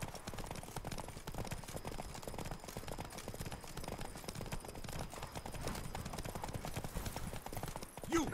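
Roach the horse's hooves clip-clop in a steady, fast rhythm through The Witcher 3: Blood and Wine, moderately close and continuous against a faint ambient game backdrop.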